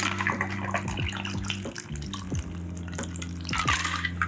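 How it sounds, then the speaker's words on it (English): A strawberry shrub cocktail is fine-strained into a glass full of ice, making a continuous close trickle and splash of liquid over ice with soft music underneath. "Then we're gonna fine strain it in an eyeball glass filled up with ice."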